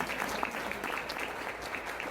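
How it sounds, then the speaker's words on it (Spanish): Applause from a church congregation during a sermon, a steady wash of clapping throughout with faint voices mixed in, moderately distant and even in level. "Denle un aplauso a Cristo en esta hora."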